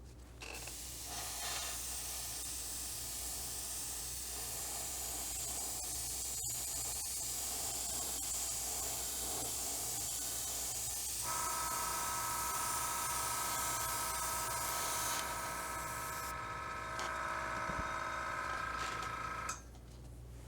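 An aerosol can spraying a second coat of white primer onto a plastic model sprue, a steady hissing spray held almost continuously for about twenty seconds, with a faint click and a shift in tone partway through.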